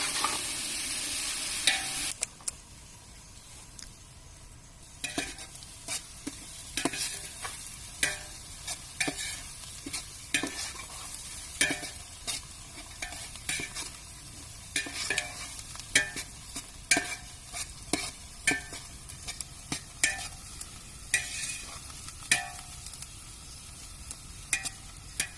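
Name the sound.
stirring and sautéing onions in a pan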